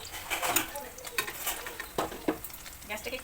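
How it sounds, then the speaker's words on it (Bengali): Paneer pieces frying in a pan with steady sizzling, punctuated by the scrape and clink of a utensil stirring and turning them, close and fairly loud. "দেখে আমি পনিরগুলোকে সুন্দর করে ভেজে নিচ্ছি"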